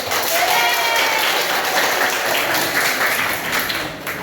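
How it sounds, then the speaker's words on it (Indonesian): Students in a mathematics classroom break into applause, a full, close burst of clapping that stays loud and even for several seconds before easing slightly at the end. "Tepuk tangan untuk kalian"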